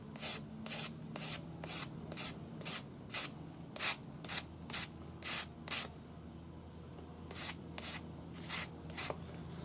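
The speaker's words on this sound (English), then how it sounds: "I'm using the split mandrel on the inside with a piece of 400 grade paper." Fine 400-grit abrasive paper wrapped on a split mandrel sands the inside of a pearl ring, giving a steady run of short, rhythmic rubbing strokes, close and fairly quiet, with no talking.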